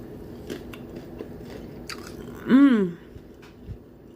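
A single loud crunchy bite into tempura fried chicken, crisp and close, followed by quiet chewing sounds.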